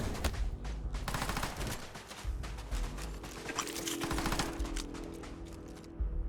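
Sustained rapid automatic gunfire rattles through a sci-fi video game firefight, dense bursts of shots running nearly nonstop at moderate volume with brief gaps.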